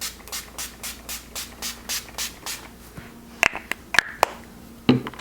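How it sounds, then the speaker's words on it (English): Urban Decay All Nighter setting spray pumped in a quick series of about ten short, evenly spaced hissing spritzes, close and clear, followed by a few clicks and light handling taps. "Last product that everyone talks about is the Urban Decay All Nighter, and we're going to spray."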